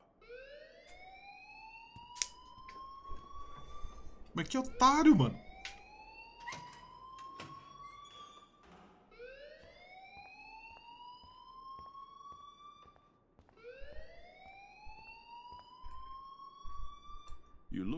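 A fire alarm in the video game Life Is Strange repeats in rising electronic whoops, four long sweeps with brief gaps, while someone speaks over it and a burst of clatter breaks in partway through.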